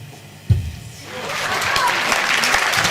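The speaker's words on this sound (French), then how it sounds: "on va bien l'applaudir" Audience applause at a French conference-debate on the history of slavery, starting with a sharp clap and swelling into steady, sustained clapping from a sizable crowd in a hall.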